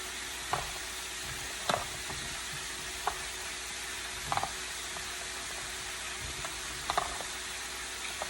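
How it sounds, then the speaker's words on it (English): Chicken pieces coated in flour fry in a pan for smothered chicken and rice, a steady low sizzle running throughout with scattered sharp clicks and pops from utensils or spattering, moderately quiet and without talk. "the chicken is frying pretty good and hard"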